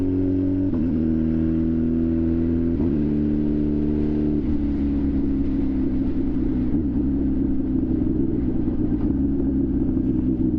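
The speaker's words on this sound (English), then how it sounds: "it's a 2003 Suzuki Hayabusa Gen 1 that is a turbo build" A turbocharged 2003 Suzuki Hayabusa Gen 1 motorcycle engine runs close and loud for about ten seconds, a steady droning rumble that shifts pitch a few times as the revs change.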